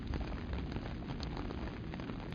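Heavy rain pouring down in an animated flood story, a dense, steady hiss of falling water that stays loud and even throughout.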